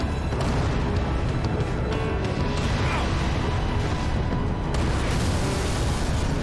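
A Covenant Prowler vehicle blows up in Halo 3, a loud rumbling explosion with a dense low boom. Continuous battle noise and music fill the scene throughout, with no speech.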